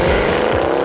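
A Mercedes C 63 AMG accelerates hard in a brief, loud, close burst of steady engine roar with a hint of tire noise, heard from inside the car.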